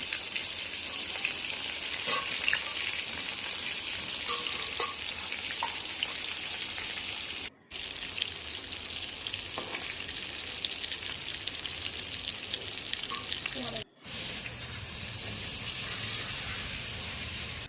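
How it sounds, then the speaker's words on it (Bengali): Pointed gourd and potato pieces frying in oil in a pan, a steady close sizzle with fine spattering crackles, running continuously without voices apart from two brief silent breaks. "পটলটা ভালো করে ভেজে নিলাম"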